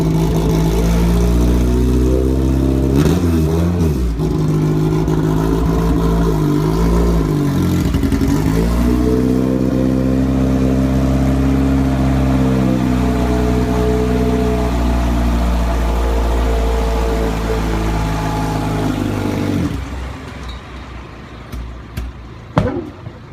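An Exocet kit car's engine runs loudly and continuously on its first drive, rising and falling in pitch as it revs and changes speed, then drops away near the end to a few clunks and knocks.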